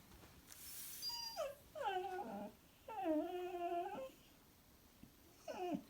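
A dog whimpers in several drawn-out, high-pitched whines with short pauses between them, close by and fairly soft.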